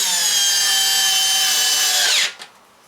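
A power drill whirs loudly and steadily for about two seconds while fastening down a propane stove in a teardrop trailer build, then winds down abruptly to silence.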